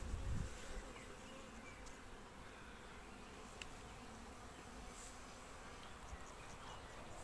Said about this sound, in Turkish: Arımız sakinlemiş.